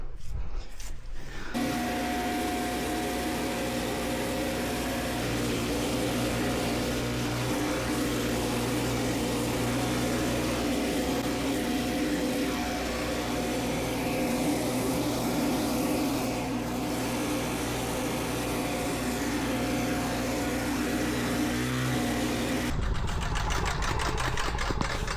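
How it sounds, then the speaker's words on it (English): A Trac Vac 880 leaf vacuum sucks up a pile of leaves, its steady, droning engine and fan roar running close and continuous for over twenty seconds with a constant whooshing intake. "let's see how this thing sucks this pile of leaves up here"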